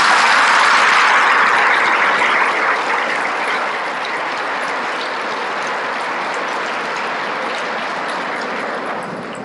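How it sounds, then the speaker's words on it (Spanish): Audience applause at a religious retreat in San Luis Potosí, a dense crowd clapping that starts loud and settles into steady sustained clapping to the end. "Hacemos un aplauso a María."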